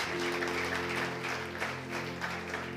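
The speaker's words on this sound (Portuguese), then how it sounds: "Você pode aplaudir o Senhor mais uma vez?" A church congregation applauds together in a dense, sustained wash of clapping with a low hum underneath, moderate in level and continuing without pause.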